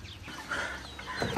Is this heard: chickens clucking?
yes